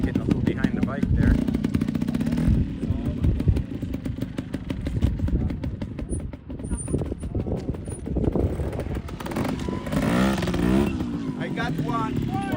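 A motorcycle engine drones and revs steadily throughout a trials ride in California, close and rough, with riders talking over the engine noise.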